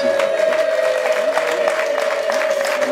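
Wedding guests hold a high, sustained ululating trill amid rhythmic clapping and crowd noise at a lively celebration.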